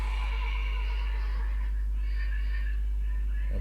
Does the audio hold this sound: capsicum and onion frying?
no